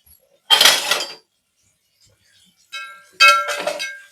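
Boiled eggs dropped into a pan of turmeric and salt for home-made egg biryani, giving two short clinking, clattering bursts separated by quiet, close and crisp with no talk.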